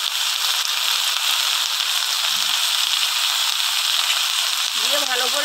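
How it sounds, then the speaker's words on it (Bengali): Malabar spinach with pond prawns sautéing in a pan with salt and turmeric, giving a steady, loud sizzle throughout, with brief clicks of stirring and a voice cutting in near the end. "ভালো করে পুঁই শাকটাকে একটু কষিয়ে নেব"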